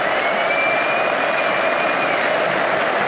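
Manchester City supporters applaud Watford fans in a stadium at the 2019 FA Cup final, a broad wash of distant crowd clapping, steady and unbroken, with a faint whistle-like tone above it.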